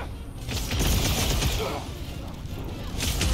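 Dense, continuous gunfire in the Marvel's Guardians of the Galaxy video game, shooting at flying enemy creeps, loud and sustained with rattling mechanical bursts layered together.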